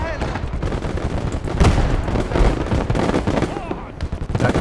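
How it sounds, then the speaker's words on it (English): Gunfire in a Motherland game battle, dense bursts of shots and explosions rattling close and loud over a continuous battle din, with voices talking through it. "That gun's taking some damage."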